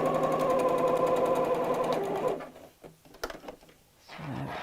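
A sewing machine stitching a Barbie doll dress seam runs in a steady, loud mechanical buzz for about two seconds, then stops, followed by faint handling noises.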